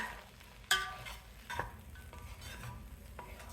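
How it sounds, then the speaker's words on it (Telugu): Puffed rice tossed with ginger and green chilli in a frying pan, a quiet soft rustle with faint sizzling and a few sharp clinks of a spoon against the pan, no talking. "ఆ మరమరాలని వేసేసుకుందాం తిప్పేయండి"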